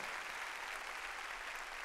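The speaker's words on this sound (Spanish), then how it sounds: "Démosle palmas fuertes a ese Señor maravilloso." Congregation applauding during a church sermon, a dense, even burst of clapping that holds steady for a couple of seconds, moderately distant and without speech.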